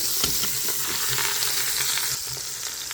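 A pot roast sears in an Instant Pot, giving a steady, dense sizzle of hot oil and meat throughout, close and continuous with a few faint scraping taps and no voices.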